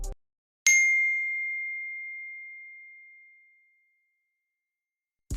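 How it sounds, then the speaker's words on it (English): A single bright notification bell ding rings out clearly and rings on for a few seconds as it slowly fades into silence, with short cut-off bursts of other sound at the very start and end. "Don't forget to hit the bell notification."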